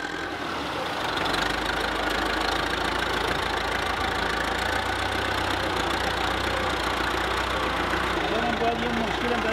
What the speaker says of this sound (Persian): ما حالا باید سیب های خراب شده را با تراکتور بار بزنیم و به یک مکان دور افتاده و دور